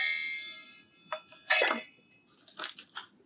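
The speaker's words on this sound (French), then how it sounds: "un couvercle de casserole avec une cuillère," A spoon strikes a saucepan lid: a few light metallic taps and clinks, one sharper ringing strike in the middle, then a quick cluster of smaller clanks, close and alone.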